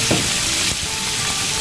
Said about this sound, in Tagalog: Habang tayo nagpiprito dyan sa kabila